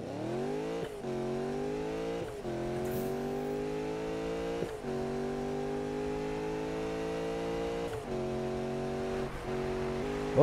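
A Ford Mustang GT in Need for Speed revs hard through repeated gear climbs, its engine note rising steadily between brief shift drops, loud and close with no talking.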